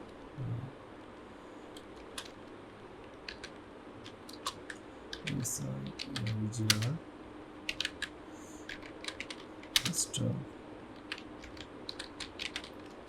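A slogan is typed on a computer keyboard as sparse, soft, irregular keystrokes and clicks in a quiet room, with a couple of brief low voice murmurs in between.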